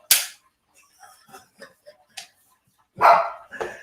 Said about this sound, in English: And then my dog just chimes in